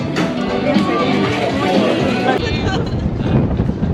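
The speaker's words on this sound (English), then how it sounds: "A little breezy out today. Way breezy out today." Strong breeze on Grand Turk buffeting the microphone outdoors, a steady loud rushing roar, with people speaking over it.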